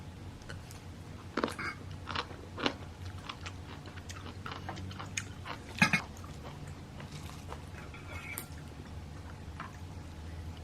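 Someone eats a fluffy meringue-style fried egg made with perilla oil, giving soft, close chewing with scattered crisp bites and clicks over faint steady background noise.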